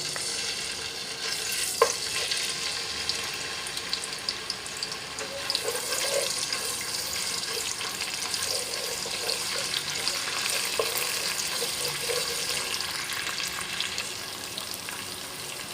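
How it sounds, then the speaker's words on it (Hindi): Onions fry in two tablespoons of oil for Pakistani-style Arabic chicken biryani, a steady close hiss and crackle of frying that continues unbroken through the whole stretch. "ऑयल में डाल रही हूँ 2 टेबलस्पून। जाएगा प्याज हमारा अंदर।"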